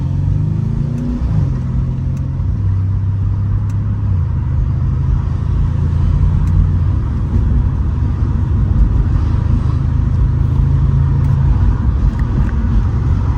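A Mercedes C63 rumbles loudly from inside the cabin on a sunny drive, its engine note stepping through several rapid gear shifts with brief pitch drops, steady and continuous without talking.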